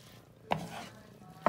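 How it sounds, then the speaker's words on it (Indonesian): Chinese-style fried rice being stirred in a pan, with two sharp scraping knocks of a spatula against the pan about a second apart under soft background noise. "Kita kacau lagi."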